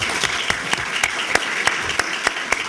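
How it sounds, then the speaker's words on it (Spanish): A hall audience claps for a speaker's mother, steady dense applause that continues throughout with a few sharper claps standing out, close and full, with no voices over it. "Aplauso para mi mamá"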